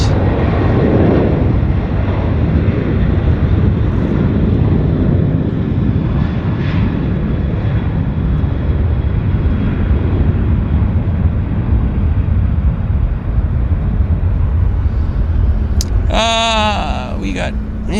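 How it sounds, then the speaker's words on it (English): WestJet jet aircraft at Vancouver airport, a loud sustained engine roar and rumble holding steady, fading slightly near the end where a brief bleating, voice-like sound cuts in. "See if we can get this other aircraft here. There it is."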